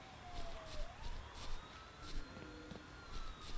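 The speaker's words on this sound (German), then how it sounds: "Ja, das war jetzt das Polizeiauto," A police car siren in the video game Thief Simulator sounds faintly in the distance, with a wailing tone that slowly sweeps up and down under low background noise.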